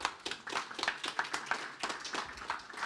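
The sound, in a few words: applause for Mark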